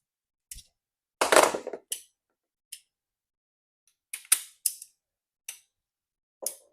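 Part of an inner tie rod tool snaps off with a sharp pop, followed by a scattering of crisp metallic clicks and taps at close range, spaced irregularly across a quiet background with no talking.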